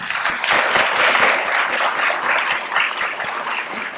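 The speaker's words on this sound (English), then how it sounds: "Please give a round of applause." A crowd at a university education graduation ceremony applauds with steady, dense clapping throughout, loud and continuous without any pause.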